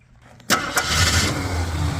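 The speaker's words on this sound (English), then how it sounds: "Here, I'll fire it up." A Jeep Wagoneer Limited's engine cranks and catches after a quiet half second, then settles into a loud, steady idle close by.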